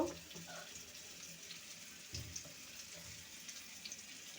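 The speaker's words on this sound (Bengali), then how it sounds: "এটা ধুয়ে একটু জল দিয়ে দেব সিদ্ধ হওয়ার জন্য" Vegetables for a steamed bottle gourd greens dish being washed and water being added, heard as a faint, steady running-water hiss with small splashes and clinks in a quiet kitchen.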